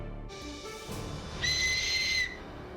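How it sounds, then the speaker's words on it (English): A whistle sounds in a long, sustained blast that swells into a bright, piercing high tone for about a second before cutting off, loud and close with no talk over it. "You want to give it a whistle for us?"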